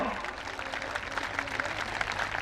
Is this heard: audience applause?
yes